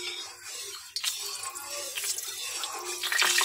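Hot oil spits and crackles in a kadai after water on a spatula hits it, a soft, steady sizzle with a slight surge toward the end.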